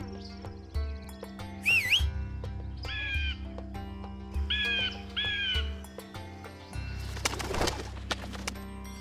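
A bird gives several short, whistling, rising-and-falling calls in quick pairs over a steady, humming tonal background, followed by a noisy rustling burst.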